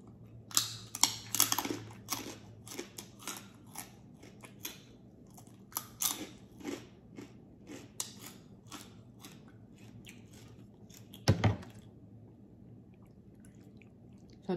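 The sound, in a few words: crunchy chewing of green papaya salad with pork skin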